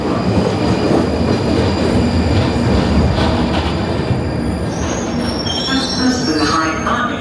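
A London train rumbles steadily along the rails at a station platform, with a continuous loud roar and high metallic squeals rising toward the end.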